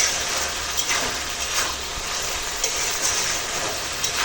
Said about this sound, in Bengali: এখন ভালো করে মশলাটা ঘেঁটে নেব